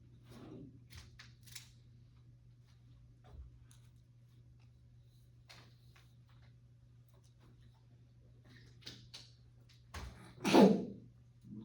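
A single sharp sneeze bursts out near the end in a quiet classroom during a fire instructor class, preceded by scattered faint ticks, rustles and small handling noises over a steady low hum.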